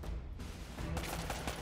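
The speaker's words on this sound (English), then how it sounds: "who's still shooting at me?" Gunfire rattles in Uncharted: Drake's Fortune, a faint, continuous spray of distant shots with a sharper burst of automatic fire toward the end.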